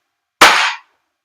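A single sharp shot from an Action Army AAP-01 airsoft gas blowback pistol, loud and close, with a bright burst that decays within half a second into silence.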